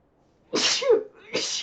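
A person sneezes twice, close and clear, a sharp first burst followed by a second one moments later, with no other sound around them.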